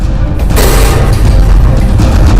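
Explosion in Beirut, Lebanon: a loud, dense boom and roar fill the whole moment, close and overwhelming, with crashing rumble throughout.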